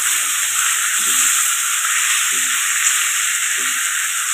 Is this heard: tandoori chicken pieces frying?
yes